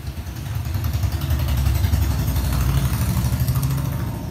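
A brand-new 2022 Mahindra Arjun Novo 605 Di-i tractor fitted with a turbocharger and intercooler runs steadily nearby, a low rumbling diesel idle that swells slightly in the middle and holds without any talk.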